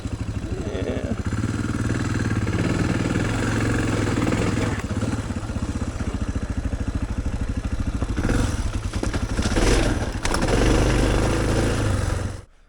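A Suzuki DR650 motorcycle engine idles nearby with a steady, loping single-cylinder thump and some mechanical clatter, briefly swelling late on before cutting off at the end.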